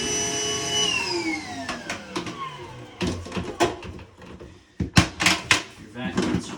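A vacuum sucks water out of a toilet bowl, a whining drone that falls steadily in pitch at first, then breaks into choppy gurgling slurps and bursts of noise.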